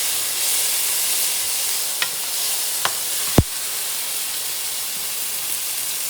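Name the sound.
mutton frying in a covered pot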